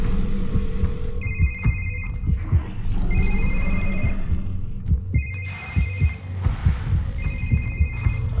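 A telephone rings in The Evil Within: The Assignment, four repeated ring bursts over a dark, throbbing game ambience with low rumbles and footsteps.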